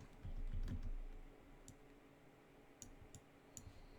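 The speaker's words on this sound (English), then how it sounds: "I'm just clicking." A computer mouse clicks while someone builds a digital fantasy mountain scene: a few soft, sparse clicks spaced irregularly over a low background rumble, close and quiet.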